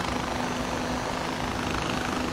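Steady rotor and engine drone of a gyrocopter parked on a rooftop in the video game Far Cry 4, a continuous, fairly loud whirring hum with a constant low tone and no voices.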